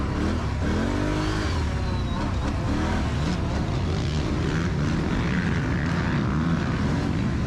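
A line of ATVs in a 4x4 off-road race in Clintonville, PA, takes off at a distance, a broad, rising roar of many engines revving together that fills the whole stretch.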